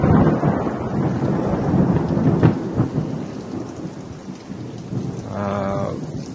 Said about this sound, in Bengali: একাধারে বৃষ্টি হচ্ছে 2 দিন।